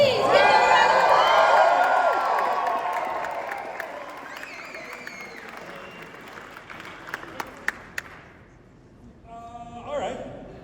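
A London preview-screening audience bursts into loud applause and cheering with whoops, the noise gradually thinning to scattered claps and fading, then a brief final swell; people talk near the end.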